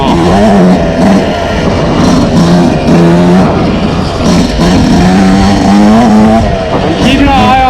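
A 2026 Yamaha YZ125X dirt bike on rocky trails, its engine loud and close, revving up and down repeatedly as the rider works through the terrain.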